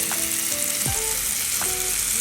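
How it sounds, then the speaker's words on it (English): A stuffed chuck roast searing in a hot pan, making a loud, steady sizzle with a few brief squeaks and scrapes on top and no one talking. "I'm gonna sear this really well on both sides"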